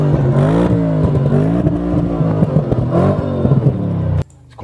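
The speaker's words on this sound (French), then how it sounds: "il y va, Lolo, il accélère" A car accelerates hard, its engine loud and close with revs rising and wavering over several seconds before cutting off abruptly.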